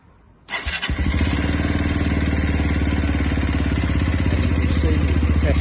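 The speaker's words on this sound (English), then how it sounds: "And what we do now, we start the bike." A Sinnis Terrain 125cc Euro5 motorcycle starts with a sudden burst and settles into a steady, rapidly pulsing idle that stays loud and close for several seconds.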